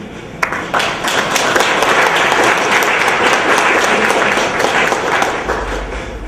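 Loud, sustained applause from a crowd at a retirement celebration in Marina del Rey, dense clapping running steadily for several seconds with no talk over it.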